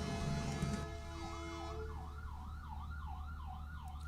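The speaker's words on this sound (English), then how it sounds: "anytime there's any type of siren going on, yes, you guys will hear it" An emergency vehicle siren wails from a nearby main street, its rising and falling sweeps growing steadily through most of the clip over a constant low hum, with no talking.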